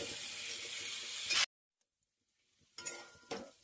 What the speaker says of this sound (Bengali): এবার তেলের মধ্যে আমি আলুগুলোকে ছেড়ে দিচ্ছি।